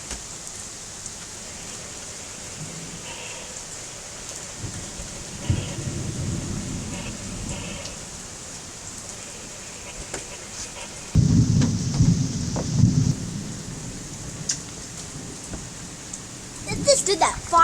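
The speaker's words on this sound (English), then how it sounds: "Crazy thunderstorm." Thunderstorm in Hamilton, Canada, with steady heavy rain and several loud, rumbling claps of thunder rolling through; a voice is faintly heard.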